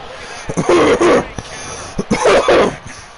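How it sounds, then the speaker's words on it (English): A harsh, nasty cough from a commentator during a WWE 2K22 wrestling game broadcast, two loud rough bursts close to the mic about a second apart. "there was a nasty cough there"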